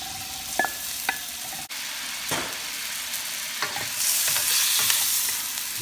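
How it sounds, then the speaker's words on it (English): Pork belly sautéing with garlic and onions in a pan for pansit bihon guisado: a steady broadband sizzle with scattered clinks and scrapes of a utensil stirring, growing slightly louder toward the end, with no talking. "Saute it with the garlic and onions."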